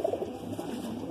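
Soft, close cooing from high-flying pigeons of the Rampur and Rajasthani breeds, a few low murmuring coos at the start, then a steady muffled warble.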